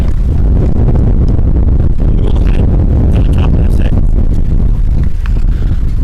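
Wind blows hard across the microphone at an outdoor baseball game, a loud, constant rumbling buffet that covers the whole stretch, with faint sounds from the field underneath.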